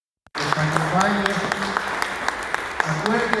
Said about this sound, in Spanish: Dale un aplauso fuerte a nuestro Dios